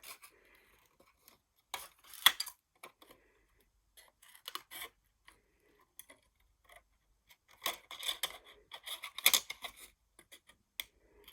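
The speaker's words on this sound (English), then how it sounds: "you would just then cut around it with scissors" Scissors snip repeatedly through stiff heat shrink plastic, crisp rasping cuts in irregular bursts with short pauses between, close and fairly quiet.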